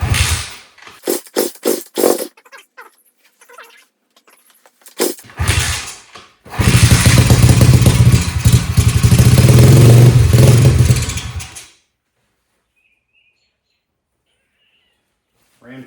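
A cheap 140cc pit bike engine started for the first time: a few kick or cranking clatters, then a brief loud, rough run of about five seconds before it cuts out to silence. Speech is heard early on.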